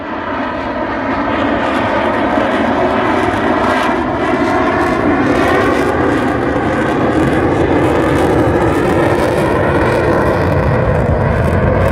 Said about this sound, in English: So get ready for that afterburner noise again.